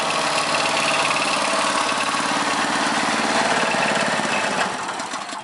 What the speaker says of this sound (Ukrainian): та він ще мотор непоганий, заводиться непогано